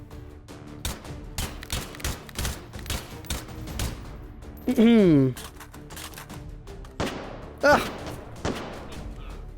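Suppressed gunfire in a video game, a rapid run of soft, clipped shots in irregular bursts with other game effects, while a person briefly exclaims.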